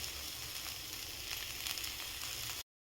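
Grated coconut tossed into a bitter gourd stir-fry with onion, crushed green chili, salt and a pinch of sugar in a pan, sizzling steadily and evenly throughout before cutting off abruptly.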